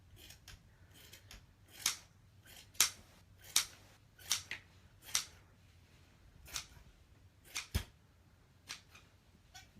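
Scissors snip yarn to trim a pom pom tassel, a string of sharp, close, separate cuts spaced unevenly over a quiet background with no talking.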